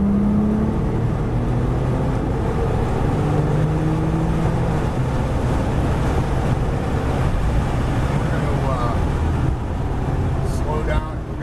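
A Porsche on a race track, its engine droning steadily at close range as it rolls on the throttle through a corner, heard beneath continuous talk from a driving instructor.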